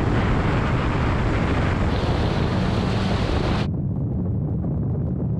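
Several cars, including a Honda Civic Type R, Audi S3 and Mercedes-AMG A35, flooring it from 50 mph in a drag race: a loud, continuous broadband roar of engines and rushing wind that drops sharply partway through.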